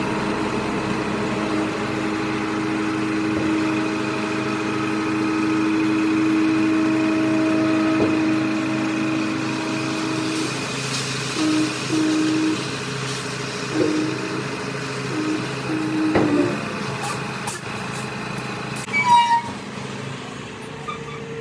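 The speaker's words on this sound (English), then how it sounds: "We rented a compactor to compact the dirt, to make the ground level, and to also compact the stone dust" A rented plate compactor running while it packs dirt and stone dust for a garden house base, heard as a steady mid-pitched engine drone that continues throughout, with some clanks and knocks toward the end.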